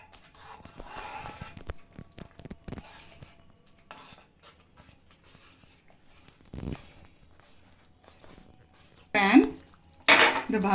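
A cooking pot of pav bhaji is shifted to another pan on a home stove, giving scattered metallic clanks and scrapes, with a couple of louder pot knocks near the end, close by in a quiet kitchen.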